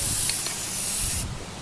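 Aerosol spray paint can hissing steadily onto a mason jar for over a second, then cutting off abruptly, leaving quiet room tone.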